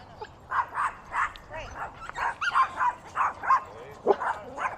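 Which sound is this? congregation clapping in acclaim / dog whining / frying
dog whining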